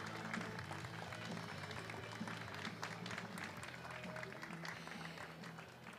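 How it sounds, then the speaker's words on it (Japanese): Spectators at the Japan Latte Art Championship finals applaud the six finalist baristas, a faint, continuous wash of clapping from a large crowd with a low murmur running underneath. "ファイナリストに今一度大きな拍手をお送りください"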